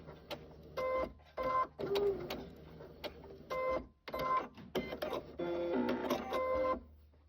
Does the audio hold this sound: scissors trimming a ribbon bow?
no